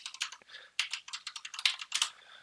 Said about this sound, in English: So if I come over here and I type in